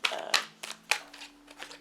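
Tarot cards being shuffled by hand in short, crisp riffling bursts, four or five quick flurries spaced across the moment, close and fairly quiet over a faint low hum.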